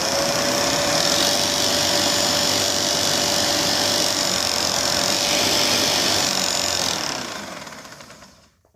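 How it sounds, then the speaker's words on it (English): A Bissell PowerBrush Pet carpet shampooer with a frayed belt runs with a loud, steady mechanical drone and a constant high whine that holds for about seven seconds, then winds down and fades. "The machine is making a lot of weird noises."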